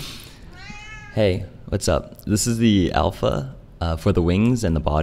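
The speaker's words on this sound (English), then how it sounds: "that's my cat again" A cat meows with a rising, drawn-out cry at the start, then someone talks steadily over it.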